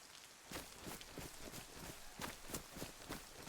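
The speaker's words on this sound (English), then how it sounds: "We ain't got time really to be in this rain for too much longer" Steady rain falling in the survival video game DayZ, a faint continuous hiss with soft irregular patters and light thuds spread throughout.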